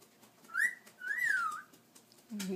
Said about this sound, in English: He must be Jacob bird in the morning.